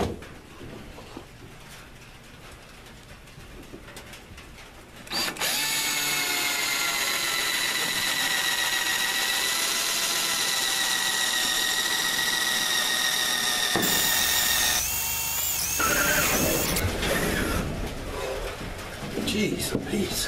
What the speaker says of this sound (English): We'll drill us a pilot hole here for the electric to go up.